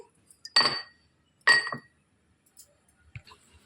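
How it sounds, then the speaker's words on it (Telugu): Cumin and fennel seeds being pounded into powder: two sharp, loud, ringing strikes about a second apart, then a few faint taps in an otherwise quiet room. "దంచి పొడి చేసేసుకోవాలి"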